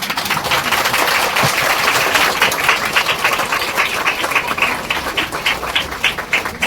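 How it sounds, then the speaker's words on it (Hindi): A standing audience at a Catholic church opening ceremony applauds the chief guests, a dense, steady wash of many hands clapping that stays loud and even from start to finish. "सभी लोग खड़े होकर हमारे मुख्य अतिथियों का लोग ताली बजाकर उनका धन्यवाद दें"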